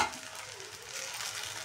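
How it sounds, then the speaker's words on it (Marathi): Sabudana khichdi sautéing in a pan, a steady close sizzle with faint stirring scrapes throughout the brief moment. "2 ते 3 मिनिट परतून घ्यायचं आहे याला।"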